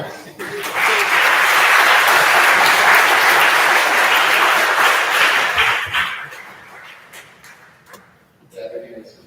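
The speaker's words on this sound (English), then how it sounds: "Round of applause." A room of people at a house session breaks into a loud, dense round of applause that holds for about five seconds and then fades into scattered claps and a bit of voice and laughter.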